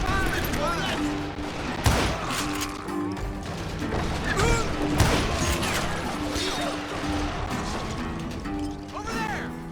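Dense Western gunfire in Call of Juarez Gunslinger, rapid overlapping revolver and rifle shots with impacts and shouting enemies, loud and continuous, while a voice speaks over the fight.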